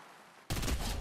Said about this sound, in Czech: Tam někdo střílí, jdem na ně asi.